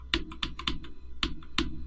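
Fingers type on a newly bought computer keyboard, producing a quick, irregular run of crisp, close keystroke clacks with short pauses between them and no voices.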